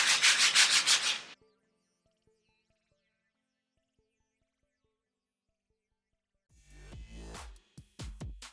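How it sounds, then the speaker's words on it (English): Hand sanding of dried hot glue on a Dollar Tree farmhouse fall porch decor piece, heard as loud, close, rhythmic rasping strokes, then a long near-silent pause before another burst of scratchy sanding ends in short strokes. "I was trying to sand this down"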